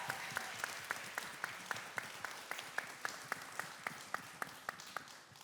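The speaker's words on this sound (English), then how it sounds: "They deserve such a huge round of applause." Sparse audience applause after a round of thanks at a film discussion event, with scattered individual claps and distinct sharp hand claps standing out at a steady rhythm, moderately faint throughout.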